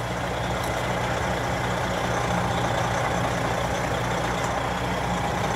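A tractor trailer rig backs straight up during a 90 degree backing maneuver, its diesel engine droning steadily at low speed, loud and close, with a continuous rumble and no talk.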